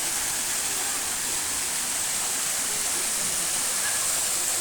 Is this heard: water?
yes